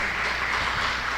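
A church congregation claps together during a worship service, a dense, steady wash of applause that holds evenly through the moment with no voices standing out.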